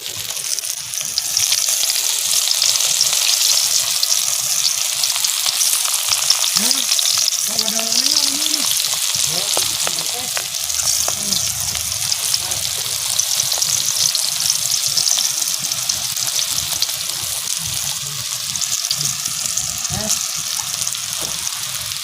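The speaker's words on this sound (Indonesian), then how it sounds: "Kita goreng lagi." Crispy banana tree chips fry in hot oil with a loud, continuous hiss and crackle that runs unbroken throughout, while a utensil occasionally stirs the pieces.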